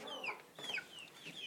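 A hen clucking in a nest box, several soft chirpy clucks in short bursts, close and fairly quiet.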